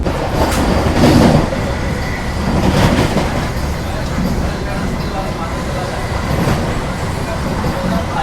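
A Vande Bharat Express on the Delhi–Khajuraho route runs steadily on its rails, heard from inside the coach as a continuous loud rumble with faint clacks, while a voice talks over it.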